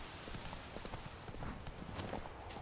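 Horse hooves clip-clopping in The Witcher 3, a steady run of soft rhythmic thuds over a faint ambient wash, continuous and mid-distance with no talk.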